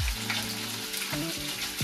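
Garlic chili chicken and shrimp fried rice sizzling steadily in a hot pan as soy sauce is poured over the rice, a continuous bright frying hiss with no talk.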